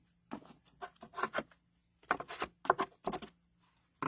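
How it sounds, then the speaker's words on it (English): Bone folder burnishing the bottom of a box made from designer series paper, giving close, quiet rubbing strokes in short rhythmic bursts with brief pauses between them. "I'm going to use my bone folder just to burnish that a little bit in the bottom."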